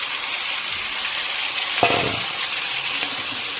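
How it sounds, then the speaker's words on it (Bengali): Sliced onions frying in hot oil give a steady, close, bright sizzle, broken once by a brief clatter of a utensil stirring in the pan, no talking. "এবার তেলটা গরম করে নিলাম আর এখানে পেঁয়াজের গালি ছেড়ে দিলাম।"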